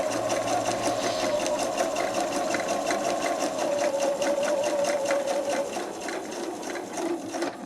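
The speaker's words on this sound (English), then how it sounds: "I'm going to sew beside this time, not actually on it." A sewing machine stitches fabric for a four-patch cushion, running with a fast, steady mechanical whirr and rhythmic needle clatter throughout, close and loud, easing slightly near the end.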